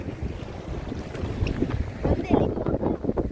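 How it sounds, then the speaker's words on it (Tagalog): Strong wind buffets the microphone with a low, gusty roar that surges louder toward the end, with faint water sounds beneath. "Malakas talaga ang hangin"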